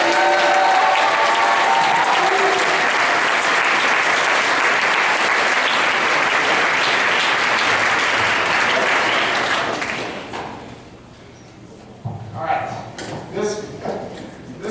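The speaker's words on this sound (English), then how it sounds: "please give a round of applause for Jonathan Thomas" A school jazz band concert audience at a Jazz Cafe event gives long, loud applause for a senior band member, which stops abruptly after about ten seconds, leaving a voice talking over a quieter room.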